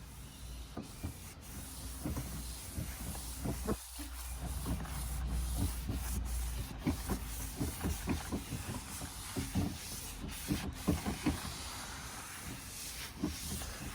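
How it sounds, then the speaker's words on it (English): A damp cloth wipes across a wooden charcuterie board, making rhythmic back-and-forth rubbing swishes, close and clear, repeating steadily over the soft background hiss. "I just want to give it a wipe just to get any dust off it"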